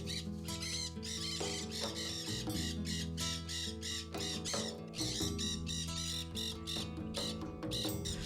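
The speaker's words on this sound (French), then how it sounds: "ce sont les oiseaux qui règnent en maître, beaucoup d'oiseaux" A dense, loud chorus of many birds squawking and screeching at once, harsh calls overlapping continuously with no pause.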